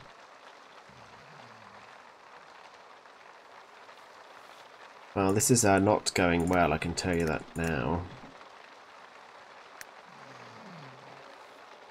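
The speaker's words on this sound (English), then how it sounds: "Oh, it's not rain, it's hail." Hail falls steadily in The Sims 3 game, a constant dense patter of small impacts heard throughout, with someone talking loudly over it in the middle.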